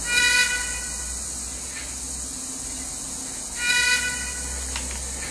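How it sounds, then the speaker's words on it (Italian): A faint, hissy short whistle from an H0e model steam locomotive, ÖBB MH 399, sounds in short bursts over a steady high hiss, thin and distant-sounding. "Fischio corto."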